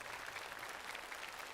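A studio audience applauds to welcome a team's stage performance, with dense, even clapping that holds steady for the whole short stretch and sounds somewhat distant and soft.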